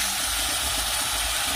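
Bean paste goes into a pan of fried onions, raising a steady, loud, even hiss of sizzling that continues without a break.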